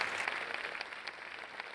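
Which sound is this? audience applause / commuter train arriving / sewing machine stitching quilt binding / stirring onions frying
audience applause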